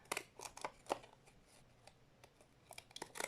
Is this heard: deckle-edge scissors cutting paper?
yes